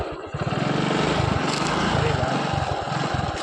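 A 2019 TVS XL 100 moped engine, just started with the self-starter, idling in a steady, close putter while someone speaks over it.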